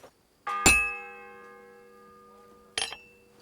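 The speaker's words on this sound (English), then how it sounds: "The first bell." A single church bell in Kingdom Come Deliverance 2 strikes once, loud and close, its metallic tone ringing out and slowly decaying before a second strike begins near the end.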